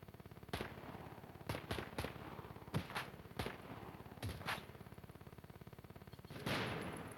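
Sharp bursts of rapid video game gunfire crack out in irregular clusters over a steady mechanical rattle, with no talking.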